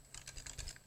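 Computer keyboard keys, the numeric keypad above an AZERTY layout, clack in a quick run of about six light taps within a second, faint and close, with no voices.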